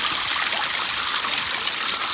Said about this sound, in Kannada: ಇಲ್ಲಿ ನೀರು ಹರಿತು ಕಣಿ